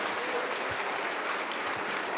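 Congregation applause at an Easter weekend morning church service, a dense, even roar of clapping throughout with no clear speech.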